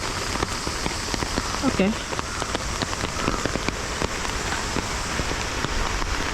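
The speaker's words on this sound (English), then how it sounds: "Oh, it's raining." Steady rain pattering on surfaces at a Buddhist shrine in Tokyo, a dense continuous hiss with scattered drop ticks, with a brief spoken word partway through.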